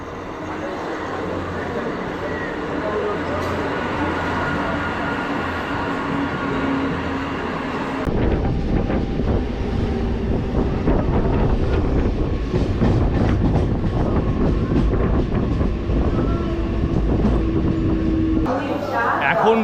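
A train runs at Sealdah railway station platform 18, where a Canning local departs: steady rumbling and rolling wheel noise, louder after the first few seconds, with platform chatter and people talking over it.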